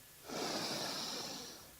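One long, heavy exhale, breathy and close to the microphone, rises quickly and tapers off during a standing balance exercise, with no talking.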